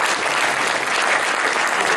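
A meeting audience at an astronomy society gathering gives a loud, close round of applause, a dense continuous wash of clapping sustained without a break for about two seconds.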